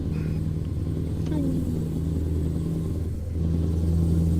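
A voice imitates a V8 truck engine with straight pipes, a continuous deep rumbling drone with slight revving swells that holds steady for several seconds, loud and close.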